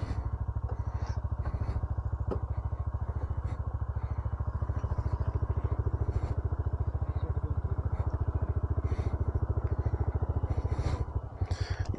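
Motorcycle engine labouring steadily as it climbs a steep mountain track toward Shipishun Meadows in Upper Chitral, a close, continuous throbbing drone with rattling clatter throughout and a brief dip near the end, no talk.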